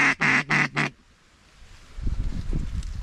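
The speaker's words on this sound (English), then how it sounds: "A bunch of ducks in the area though." Ducks in a flooded corn field give three loud, close quacks in quick succession, followed by quieter rustling and movement.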